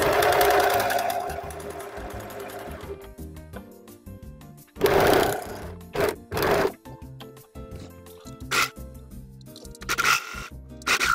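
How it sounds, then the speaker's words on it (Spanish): Domestic sewing machine stitching elastic onto a men's boxer brief with a double needle, a close rapid mechanical rattle in several short bursts separated by pauses and small handling clicks. "Y así nos va a quedar el elástico cosido con la aguja doble"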